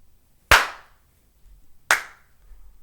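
Two separate hand claps from two people at a college football coaching session, each sharp and loud, about a second and a half apart, with near silence between them.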